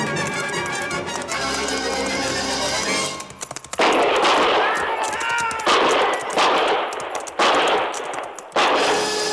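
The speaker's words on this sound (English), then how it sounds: "I knew from the sound of that first volley what had happened." A loud volley of rifle and gunfire crackles and echoes in rapid bursts, played as a sound effect in a 1958 Western radio drama with no talking.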